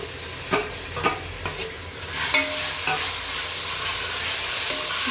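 Masala frying with browned onions in a pan, opening with several distinct scraping stirs over a continuous close sizzle that settles into a steady hiss.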